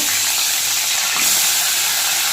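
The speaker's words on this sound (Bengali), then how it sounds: "এই কড়াইতে আর একটু তেল দিয়ে নিলাম, আলুগুলো ভেজে নেব" Potatoes frying in oil in a wok, a loud, dense, continuous sizzle heard up close with no other sounds.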